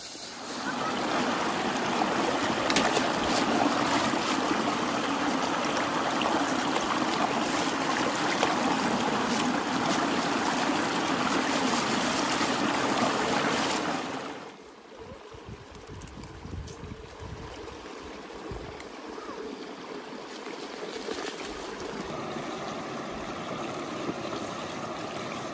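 Water flows steadily through a bamboo and grass fish trap set in a paddy field, a continuous broad rushing that drops abruptly about halfway through and is replaced by a softer, quieter trickle.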